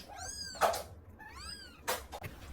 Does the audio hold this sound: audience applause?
no